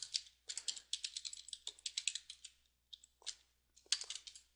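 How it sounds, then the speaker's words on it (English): Computer keyboard typing code into a web form, in steady bursts of quick, crisp keystrokes with short pauses between, close and fairly clear, no talking. "so I'm just going to type it in"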